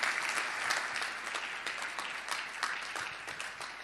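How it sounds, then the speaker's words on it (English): An audience applauds a conference panel, brisk clapping from many hands that stays fairly even throughout and eases slightly toward the end. "Let's give a round of applause to our panel."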